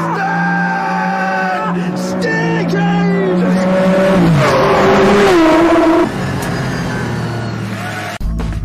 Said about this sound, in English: I can hear them both. Which car would appear first?